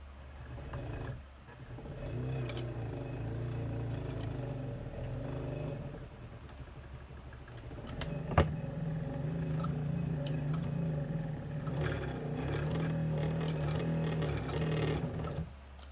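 Kenmore 117.95 sewing machine running steadily with a humming motor and rapid needle chatter, pausing briefly midway and then resuming at a similar close, even loudness.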